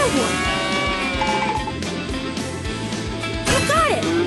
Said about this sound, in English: There's a cow!